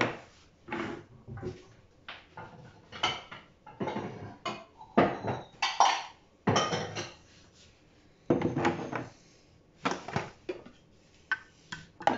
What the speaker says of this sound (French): Je transvase dans un récipient.